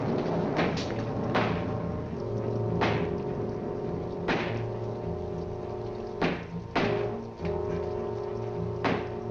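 Irregular dull thuds, like knocking on a front door, spaced over several seconds against a steady low background hum, from a 1946 film.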